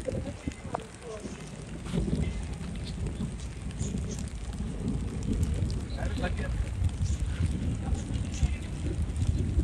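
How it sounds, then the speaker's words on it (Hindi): Rain falling outdoors with a cool wind, a steady broadband wash of rain and gusty wind noise buffeting the microphone, continuous and fairly close. "बारिश हो रही है और ठंडी ठंडी हवा चल रही है"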